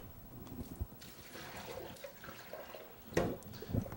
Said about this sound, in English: The eggs are finished. Drain the pot.